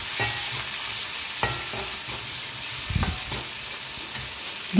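Onions fry in a pan for a jackfruit masala curry, giving a steady close sizzle broken by a few sharp scrapes and knocks as a spoon stirs them.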